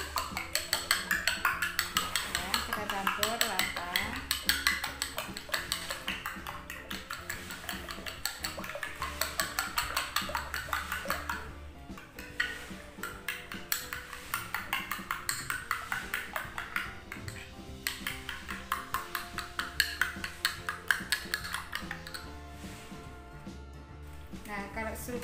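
A face mask mixture being stirred in a small bowl, with repeated light clinks and scrapes of a utensil against the sides, steady and close, over music running throughout.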